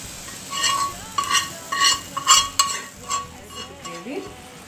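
Gravy being stirred in a pan, with a spoon scraping and clinking in bursts over a low background sizzle, close and moderately loud.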